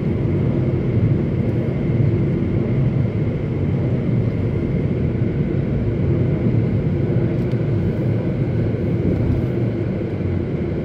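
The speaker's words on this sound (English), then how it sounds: "I'm driving still, but I'm revving the engine." A 2010 Ford Focus SE engine revs in neutral while the car coasts at speed, a steady loud low rumble with road and wind noise running unbroken throughout, no voices.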